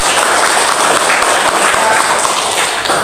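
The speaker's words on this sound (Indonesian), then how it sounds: "Tepuk tangan." Students in a classroom applaud in a dense, loud, continuous patter of clapping that fills the room from start to finish.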